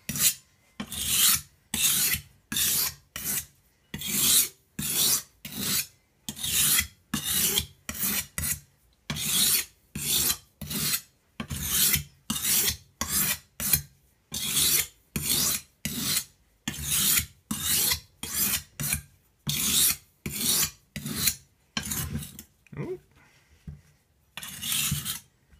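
A kitchen knife is sharpened on a sharpening stone in long, even strokes, each a close rasping scrape followed by a short gap. Roughly two dozen strokes repeat in a regular rhythm, heard alone without speech.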